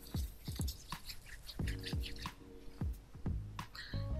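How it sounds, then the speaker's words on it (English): Water added to 4c natural hair already treated with shea butter gives a series of close, soft wet drips and squishes that repeat irregularly and stand alone without talk. "A little water in there."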